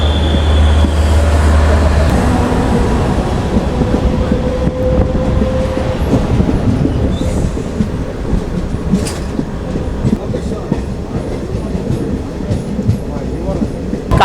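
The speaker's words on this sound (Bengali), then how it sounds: "তারপরে আমাদের ট্রেন ছাড়লো" A passenger train pulls out of Qazigund railway station in snowy Kashmir, heard from on board as a loud, continuous rumble with rhythmic wheel clatter. Brief squeals and tones cut through near the start.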